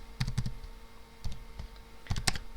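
Typing on a computer keyboard at a desk, a few quick bursts of clicky keystrokes separated by short pauses, close and fairly quiet with no talking.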